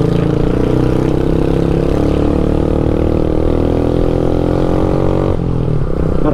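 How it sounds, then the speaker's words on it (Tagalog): Several motorcycle engines rumble steadily and loudly nearby at a Philippine waterfall site, a continuous low droning mix with a slight shift toward the end. "Marami ring mga motor na pumasok dito ngayon."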